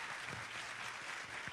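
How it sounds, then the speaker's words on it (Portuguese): Brief applause from the audience at a school violence-prevention forum, a dense, distant patter of many hands clapping with a faint hum beneath. "Muitas palmas."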